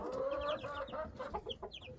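Young chickens on a sunny day give soft, repeated clucks and chirps in short bursts, fairly close, with no one speaking.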